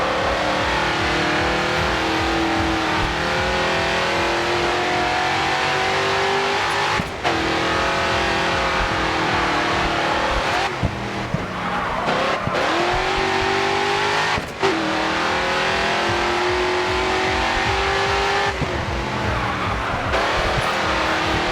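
A race car in GRID 2 roars and revs hard, the engine pitch climbing and dropping through gear changes with brief tyre squeals, loud and continuous.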